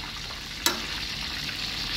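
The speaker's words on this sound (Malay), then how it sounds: "Ni kita tengok koki kita sedang menggoreng ikan." Fish frying in hot oil, freshly caught keronge cooked crisp by a cook, gives a steady low sizzle throughout, broken once by a sharp crackling pop near the start.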